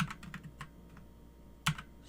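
Keystrokes on a computer keyboard while entering configuration commands for an IOS router, a quick cluster of taps early, then sparse clicks and one sharper press near the end, close and alone with no voices.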